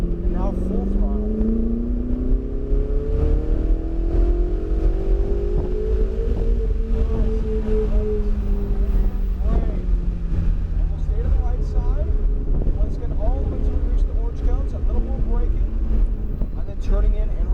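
A Ferrari 488 GTB at full throttle on a raceway, its engine note climbing steadily in pitch as it accelerates, loud and close from inside the car, with wind noise and a voice talking over it.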